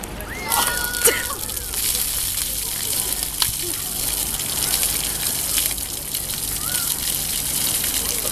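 A bucket of ice water dumped over a person during an outdoor ice bucket challenge at a beach hotel, a steady loud gushing slosh and splatter that runs throughout, with faint voices underneath.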